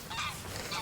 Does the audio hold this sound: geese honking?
yes